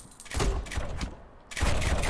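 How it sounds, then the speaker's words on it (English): A mortar tower fires in the tower-defense game Rogue Tower, producing bursts of booming, crackling blasts, then a brief lull before another loud volley. "Mortar in play."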